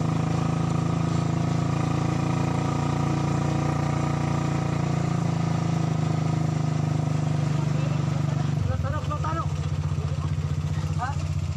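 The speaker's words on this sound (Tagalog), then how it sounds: "nandito na kami sa kalsada at nakasakay na po kami ng motor" A motorcycle engine drones steadily on a road, then the tone drops and settles into a lower, uneven idle as the bike slows over a possible flat tire; a short spoken word comes near the end.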